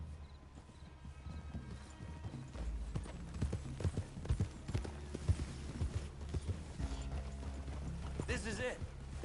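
Horse hooves in the video game Red Dead clip-clop steadily at a walking pace over a low ambient bed, with voices talking beneath and a brief whinny near the end.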